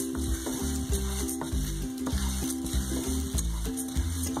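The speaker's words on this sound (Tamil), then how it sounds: "இதை நல்லா வறுத்து எடுத்துட்டு நல்ல ஒரு வாசனை வர வரைக்கும் வறுத்துக்கோங்க" Spices dry-roasting in a pan for kulambu chilli powder: a steady, close sizzle with repeated scraping and stirring strokes in a regular rhythm, no voices.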